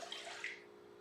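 Soy milk pours into a blender jar, a brief splashing liquid stream that fades within about a second, quiet and close with no talk.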